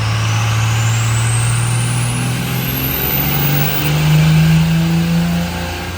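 Diesel truck with a VP44 injection pump revving hard on a dyno pull, a loud, sustained engine roar whose pitch climbs steadily toward high RPM, with a rising whine over the top and no voices.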